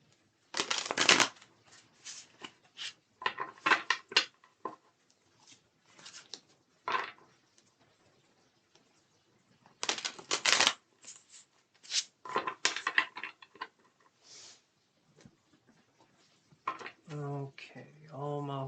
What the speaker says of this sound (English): One more shuffle for these ones.